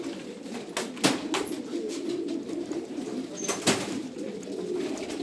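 Racing homing pigeons coo at a club loft before a 130 km training race, a steady soft murmur of many birds with a few sharper bursts of wing flapping, close by and with no one talking.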